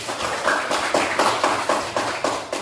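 Classmates clap for a student group in a classroom, a steady rhythmic patter of hand claps with regular pulses across the whole stretch, close and fairly loud.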